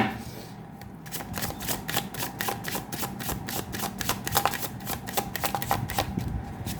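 Tarot cards being shuffled close up, a quick, rhythmic series of crisp riffling slaps repeating steadily, fairly quiet and with no talking over them.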